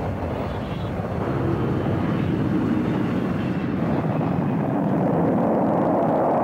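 Boeing 747 jetliner ferrying space shuttle orbiters for NASA, a steady, loud broadband roar of jet engines running continuously with no pauses, close and dominant throughout.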